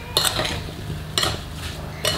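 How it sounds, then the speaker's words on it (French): Apple slices tossed with cornstarch and cinnamon, stirred in a bowl: three brief scraping, clinking strokes about a second apart over a low steady hum, with no voice. "mélanger tout de suite avec la cannelle"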